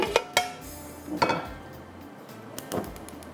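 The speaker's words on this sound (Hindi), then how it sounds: "अब यहाँ पर मैं लेती हूँ एक बर्तन जिसके अंदर हमने इसको बनाना है" Metal cookware clanks in a home kitchen while a pot is picked up and set down for cooking liver with yogurt. There are several sharp knocks and clinks with short pauses between them, close and fairly loud, and no one speaks.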